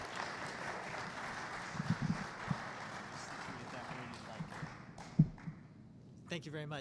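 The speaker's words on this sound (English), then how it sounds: "Let's give him a round of applause." Audience applause for a speaker at a community conversation, a moderate steady patter of clapping with a few sharper, closer claps standing out, tapering off before a brief clatter at the end.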